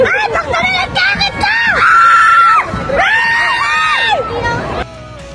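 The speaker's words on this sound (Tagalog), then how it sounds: "Kahit saan kanto ay maririnig mo talaga ang sigawan ng mga tao." A large crowd screams and shouts excitedly at a street procession in Gingoog City, loud, shrill overlapping cheers rising and falling in waves from close by, with constant babble underneath.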